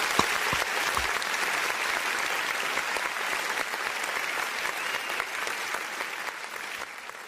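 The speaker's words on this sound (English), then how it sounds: "Let's go ahead and give him applause, man." A studio audience gives sustained applause after a football season preview of the NFC North, dense, even clapping with a few sharper individual claps standing out, continuing without talk.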